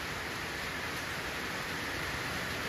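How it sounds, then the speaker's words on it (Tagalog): Rain falling on leaves at a rainy-morning camp, a steady, even hiss of dense drops without breaks, moderately quiet and with no voices. "Mga simpleng patak ng ulan ng ganyan sa dahon na"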